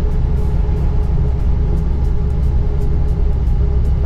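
A Mahindra pickup cruising on the road at speed, steady low engine drone and road rumble from inside the cab, continuous and even throughout with no talk.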